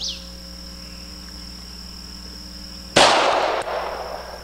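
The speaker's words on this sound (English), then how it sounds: "let's go ahead and we'll shoot this 45 through there." A single .45 pistol shot fired with ball ammunition through a chronograph outdoors, one sharp loud report with a brief decaying tail after a stretch of steady insect buzz, no talk.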